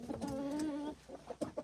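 Chickens cluck softly nearby, one drawn-out call followed by a few short, quick clucks, quiet and close.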